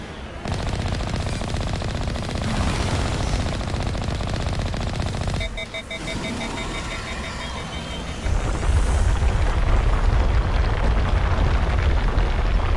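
Sustained rapid enemy gunfire roars through a Mass Effect firefight, a dense, loud mechanical rattle with a brief lull midway before heavy blasts and rumbling resume, while a player's voice speaks over it.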